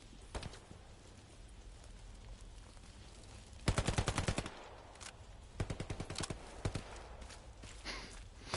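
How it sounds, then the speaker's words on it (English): Gunfire in the Hell Let Loose war game: bursts of rapid automatic fire at mid distance, one dense volley near the middle and scattered shorter bursts and single shots after it, over a steady outdoor ambience. "I swear they're just blindly firing"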